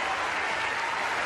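A tennis crowd at a CiCi Bellis match applauds loudly and steadily in a short, dense burst of clapping.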